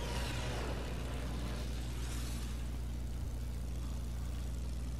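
Plane engine in Fortnite video game, a steady loud droning hum with a faint whooshing sweep near the start, continuous and close with no talking over it.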